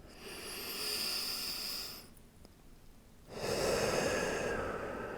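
Slow, steady breathing during a yoga stretch, with a long airy breath, a brief pause, then another full exhale, close and soft with no talking.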